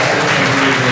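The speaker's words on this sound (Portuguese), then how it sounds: "Uma salva de palmas para eles." Congregation applauding at a baptism church service, a dense, steady wash of many hands clapping at once, loud and close, filling the full second without pause.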